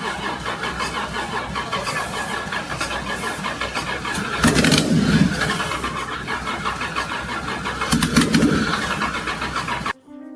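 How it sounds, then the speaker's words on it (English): The engine of a 1993 Toyota Supra MK4 with a six-cylinder setup cranks repeatedly and fails to start, a loud, continuous whirring starter with two brief surges, then cutting off abruptly near the end. "Tried cranking it again, still failed."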